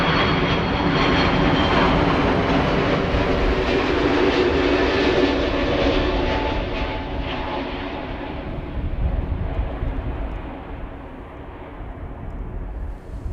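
A KLM Airbus A330-300 widebody arriving at Amsterdam Schiphol from Toronto roars past close and loud, then the thunder recedes and dulls as it moves away, with a brief swell partway through the fade.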